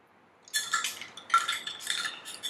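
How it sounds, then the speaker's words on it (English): Makeup brushes are dunked together into a cup of vinegar cleaning mix, giving a short run of light clinks and wet stirring clatter against the cup, close and fairly quiet, with no talk. "we're going to be taking all the brushes together and we're going to dunk them into the mix"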